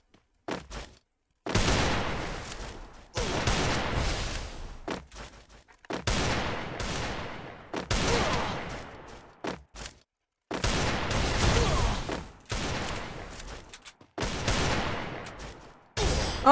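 Bursts of gunfire from a shooting video game during a competitive 1v1 match: about eight loud, sharp volleys separated by short gaps, each ringing out and decaying, with no talk.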